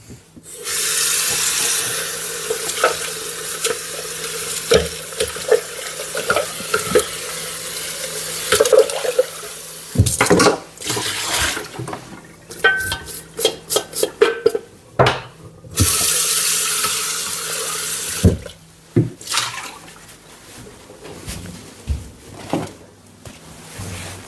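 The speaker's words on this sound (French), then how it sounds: "le bol étant à peine sale, du coup, je l'ai juste passé un petit peu sous le robinet" Running tap water streams into a kitchen sink as a Thermomix bowl is rinsed, with the flow starting and stopping and the bowl knocking and clattering against the sink in between.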